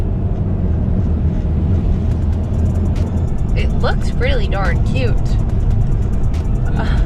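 A white BMW 3 Series engine hums steadily while the car drives, a constant drone heard under people talking.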